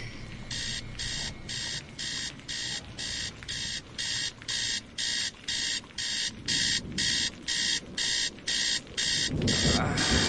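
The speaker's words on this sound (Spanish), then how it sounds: "Maldito despertador, pero si apenas son las 4:15 de la mañana." An alarm clock rings in rapid repeating electronic beeps, loud and steady, continuing for the whole stretch with a rustle near the end.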